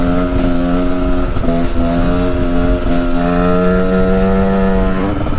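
A 125cc two-stroke motorcycle rides at speed in sixth gear, its engine holding a loud, steady, buzzing drone with slight rises and falls in pitch as the throttle changes.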